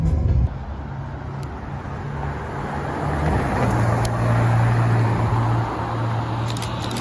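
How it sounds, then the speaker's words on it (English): A McLaren Artura supercar drives past in Alderley Edge amid steady traffic roar, a continuous engine drone holding a low hum that shifts in pitch midway, fairly loud and with no talking. "That's a McLaren Artura."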